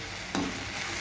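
Onion, tomato, salt and chili powder fry in a pan for a bread sandwich filling, a brief low sizzle with one quick stir scrape partway through.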